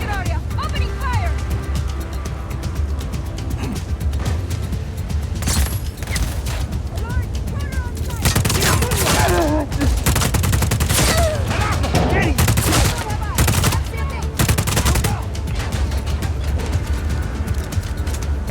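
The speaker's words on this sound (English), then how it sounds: "Restricted area. Opening fire." Guards open fire in Just Cause 4, with sustained bursts of automatic gunfire and sharp shots that intensify into loud, close volleys amid game effects, while voices speak over the shooting.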